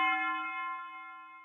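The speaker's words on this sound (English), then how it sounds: "This is the last element I added, which is just the usual church bell with these effects applied." A church bell sample treated with reverb and tape delay rings out as a single struck tone with a long, steady, shimmering decay, clear and alone with no other sounds.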